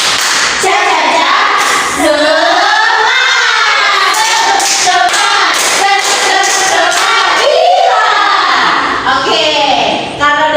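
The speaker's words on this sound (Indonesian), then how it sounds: "1, 2, 3, tepuk semangat." A class of young children in a lower-grade classroom does a rhythmic spirit clap chant, loud, near group voices chanting in a sing-song pattern with repeated sharp claps throughout.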